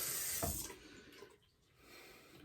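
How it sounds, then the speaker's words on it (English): Tap water runs briefly over a shaving soap puck, a close hissing splash that fades out after about a second, leaving quiet room tone. "I'm just going to do a little rinse to the puck."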